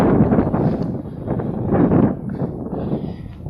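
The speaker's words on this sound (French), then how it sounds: "dans le champ, il y a toujours du vent" Wind in an open field buffets the microphone in heavy low rumbling gusts, surging and easing over a few seconds, loud and close with no voices.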